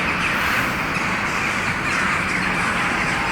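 Several crows caw harshly over a dense, steady background wash, the cries overlapping loudly throughout, in the video game Strange Antiquities.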